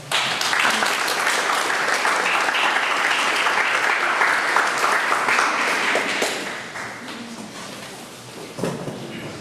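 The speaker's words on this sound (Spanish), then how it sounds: "Para quien pido un fuerte aplauso." An audience at a lecture on civil procedure claps in a dense, loud burst of applause that holds steady for several seconds and then tapers off.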